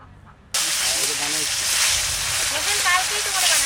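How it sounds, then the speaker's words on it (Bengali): A large fish dropped into hot oil sets off a sudden loud hiss that settles into a steady close sizzle, with a voice talking over it. "এবার বড় মাছটা ভাজা করবো।"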